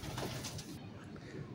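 Soft golden pigeon cooing close by, low rumbling coos repeating over a busy background with some shuffling noise.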